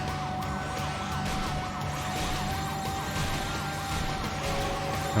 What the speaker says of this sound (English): you'll see the ambulance is still there causing trouble